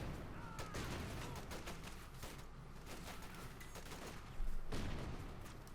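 Rapid bursts of gunfire and explosive grenade fire from a Company of Heroes 2 match between German OKW and US forces, a dense continuous fusillade with a heavier blast near the end.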